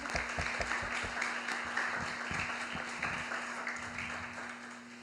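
An audience at an award ceremony for the Nelly Novaes Coelho and José Nicolau Gregorin prizes applauds Ricardo, a soft, continuous patter of many hands over a steady electrical hum, tapering slightly toward the end.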